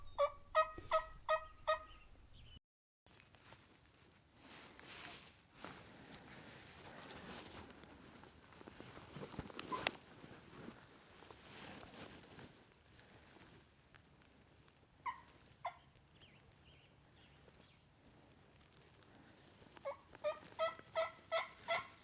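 Merriam's wild turkey gobbling on Colorado public land, heard as rapid rattling bursts at the start and again near the end, fairly close, with quieter rustling and a lull between.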